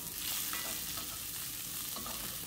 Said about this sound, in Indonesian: Mau kita tumis dulu semuanya sampai layu.